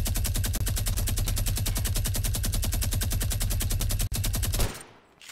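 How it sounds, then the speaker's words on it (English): A minigun fires in Fortnite, a loud, dense unbroken stream of rapid shots that runs for several seconds and then cuts off abruptly. "we're just gonna melt his little building with this minigun"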